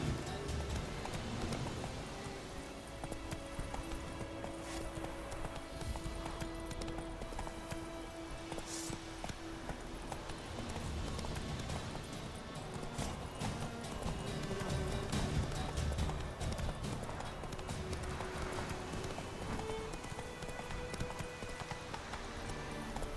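Hooves of the horse Roach clip-clopping in The Witcher 3, a steady rhythmic trot that continues the whole time, moderately loud, with faint ambient background.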